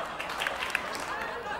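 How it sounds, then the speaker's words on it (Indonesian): Weak, half-hearted applause from a studio audience at a comedy debate show, with a few sparse claps fading in and out beneath louder voices and room noise. "Lu gak niat banget tepuk tangannya"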